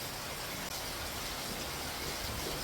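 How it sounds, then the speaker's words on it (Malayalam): Rain falls steadily beside a river, a dense even hiss that fills the whole moment without any voices. "മഴയാണേ."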